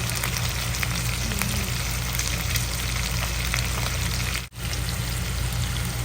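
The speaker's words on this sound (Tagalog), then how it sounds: "Nilagay ko na rin ang ating bawang at ang ating sibuyas. Ayan. Gisa-gisa lang po natin." Garlic and onion sautéing in a pan for pansit sotanghon: a dense, even sizzle runs close and loud throughout, with a brief dip near the end.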